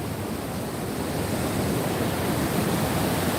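Water pouring over a newly built weir on the Orange River, a steady, dense roar of rushing water that stays constant and loud throughout.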